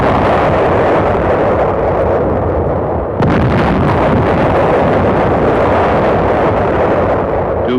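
Naval and aerial bombardment explosions pounding the Inchon area, a dense, loud roar of blasts and rumbling booms, with a sharp new burst partway through.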